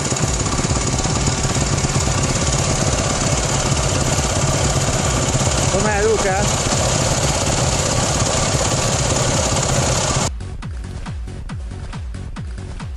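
Enduro motorcycles approach along a rocky mule track, a loud, steady engine drone that fills most of the stretch before dropping to a quieter, rougher rumble near the end, with brief talk over it.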